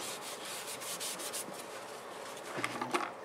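A cloth rubs Danish oil into a turned wooden piece, giving a soft continuous swishing friction close up, with a brief firmer stroke near the end.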